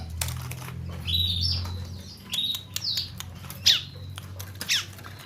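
A roughly two-month-old pet bird being hand-tamed gives several short, high chirps and tweets, spaced irregularly with brief pauses, over a low steady background hum.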